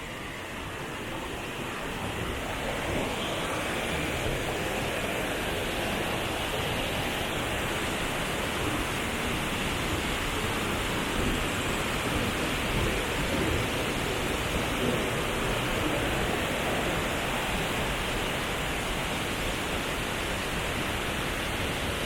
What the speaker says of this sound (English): So the big waterfall is the one supplying the small waterfall.